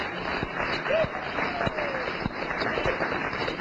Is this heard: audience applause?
yes